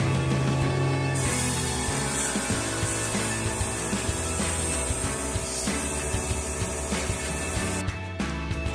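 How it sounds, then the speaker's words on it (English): A steady, airy hiss of an airbrush spraying over a stencil onto a buttercream cake, starting after a moment and continuing without pause over a busy background. "My airbrush is ready to go, and we're just going to go ahead and use spray over the stencil."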